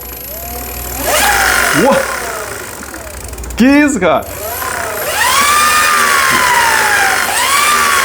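An electric bicycle driven by a skateboard motor through a 3D-printed pulley revs up with a rising whine and mechanical rattle, loud and close. Excited voices talk over it.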